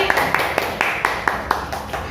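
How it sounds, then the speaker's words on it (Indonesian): A small audience at a teachers' training session claps in a steady, moderately loud rhythm of about nine distinct hand claps, with a murmur of voices underneath. "Tepuk tangan untuk Bu Tuti."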